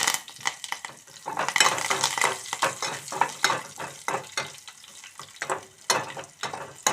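Hot oil sizzles steadily with sharp crackles and pops as dried red chili and curry leaves hit the pan for tempering, a close, continuous frying hiss with a few soft utensil knocks.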